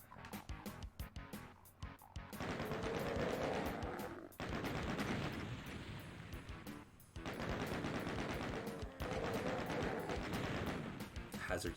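Rapid chaingun fire in the classic DOOM video game, loud sustained automatic bursts in several long runs separated by short gaps, with a voice talking over the gunfire early on.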